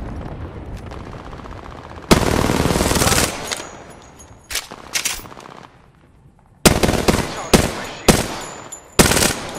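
Gunfire in the video game Apex Legends: loud bursts of automatic weapon fire, one long sustained burst followed by a series of short, sharp volleys, with no talk.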